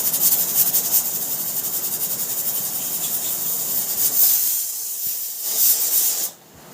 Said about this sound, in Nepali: दार्जिलिङको रेल कराउन आँट्यो